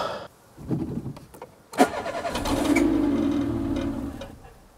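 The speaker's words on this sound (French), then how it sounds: "Si cette voiture démarre avec une batterie en meilleur état" A car engine cranking on a replacement battery, with a few hesitant turns and then a louder catch into a rough, labouring run that fades toward the end.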